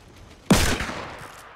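A sniper rifle shot in the Fortnite battle royale video game, one sharp loud crack with a short echoing tail that fades over about a second.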